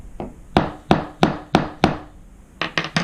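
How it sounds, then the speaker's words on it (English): Light hammer taps used to set marks before drilling: a single faint knock, then five evenly spaced crisp taps, a short pause and three quicker ones, close and alone. "now a little tap with a hammer"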